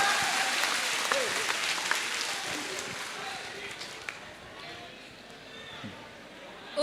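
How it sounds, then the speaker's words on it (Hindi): Applause from a crowd of students at a motivational session, steady clapping at moderate level, fading slightly toward the end with some voices underneath. "एक बार जोरदार तालियां बजा दें इस प्रश्न के बाद।"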